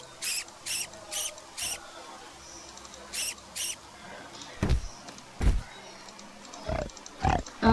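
Rats in the Green Project video game give a series of short, sharp squeaks in quick pairs and clusters, followed by several heavier grunting bursts from pigs. All of it is close and fairly loud over a faint background.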